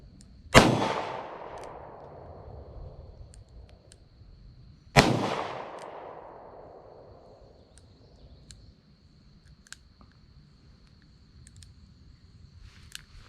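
Two loud gunshots from a Rock Island .38 Special revolver, spaced about four seconds apart outdoors, each a sharp crack with a long fading echo, followed by faint small clicks.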